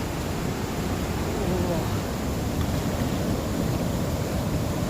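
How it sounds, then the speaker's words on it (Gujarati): A monsoon waterfall in Uttarakhand, muddy water pouring down the hills, heard as a constant broadband roar and rush that holds steady throughout without any breaks. "ત્યાંથી ધોધ પડી રહ્યો છે."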